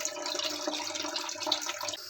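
Water runs steadily into a toilet flush tank being repaired, its refill valve hissing and splashing at close range, with no pause as the tank fills.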